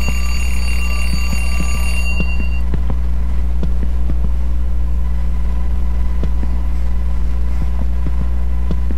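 An alarm rings in the horror video game The Dark Veer for about two seconds, a loud shrill electronic bell over a heavy constant low drone, which then carries on alone with scattered faint clicks.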